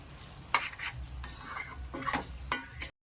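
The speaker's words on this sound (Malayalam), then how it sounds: "ഇടയ്ക്കൊന്ന് ഇളക്കി നോക്കണം." A spoon stirs semiya upma in a pan, making several distinct scraping strokes against the metal with a soft sizzle underneath.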